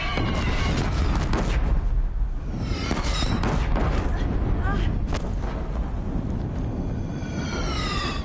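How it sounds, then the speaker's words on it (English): Deathbringer war machines firing on a bridge in Horizon Zero Dawn, with repeated heavy booms and rapid bursts over a loud battle din, while voices speak through the chaos. "If the Deathbringers keep firing, this bridge will go."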